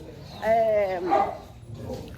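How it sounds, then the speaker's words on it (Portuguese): A dog yips and whines in short playful bursts, a bit distant, with a second rising yelp right after over a low background. "os meus cachorros estão brincando lá embaixo"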